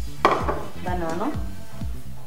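A knife chops a banana into small pieces on a board, giving several quick, close knocks in a row while a voice speaks over them.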